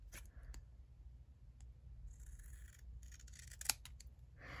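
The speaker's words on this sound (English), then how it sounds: "I'll trim that down just a little bit" Scissors snip paper cardstock being trimmed for a mini journal page, a few soft, close cuts spaced apart over quiet room hiss.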